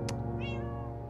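A single short cat meow from a Sims-style building game, clear and close, preceded by a brief soft click over a low steady background hum.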